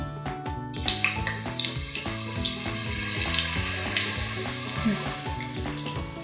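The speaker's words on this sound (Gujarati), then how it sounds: "હવે આપણે આને તળી લઈશું" Sabudana chips fry in hot oil with a steady, dense sizzle close at hand, while a rhythmic musical tune plays prominently over it throughout.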